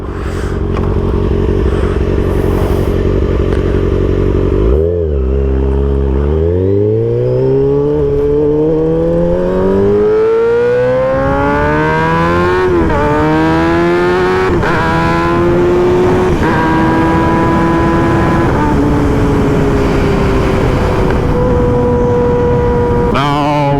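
A 2021 Kawasaki ZX6R sport bike fitted with a new aftermarket exhaust, loud and close, idling with a deep rumble before pulling away through several rising, revving gear changes that climb in pitch and then settle, with no talking.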